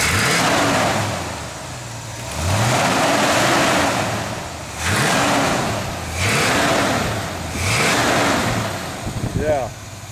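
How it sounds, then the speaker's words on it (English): Chevrolet car engine revved repeatedly, four or five rising and falling throttle blips close by, with people talking around them. "Can you rev it?"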